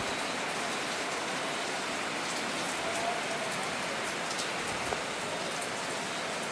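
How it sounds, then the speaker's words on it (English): Heavy rain falls outside in a dense, even hiss of drops pattering on surfaces, loud and constant throughout with no voices. "it's heavily raining outside."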